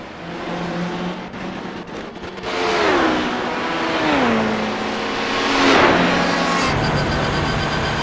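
Race car engines in a racing video game broadcast of the Daytona 12 Hours, revving and changing pitch as cars slow and pull into the pits, loud and sustained with several cars layered together.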